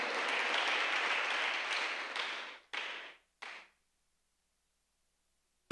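Congregation applause in a Spanish-language church service, a loud burst of many hands clapping that tapers, then two short separate bursts of claps before silence.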